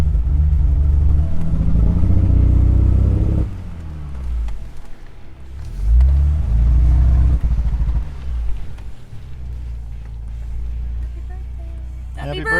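A stock Ford Bronco Raptor engine bogging down with limited throttle while off road after a service warning, a heavy low rumbling drone that sags and surges unevenly, with a voice talking over it.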